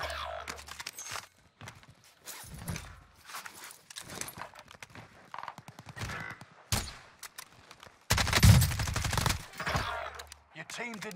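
Automatic gunfire in the Warzone battle royale, bursts scattered through the stretch and a loud sustained volley near the end, mixed with footsteps and game effects while a voice talks over it.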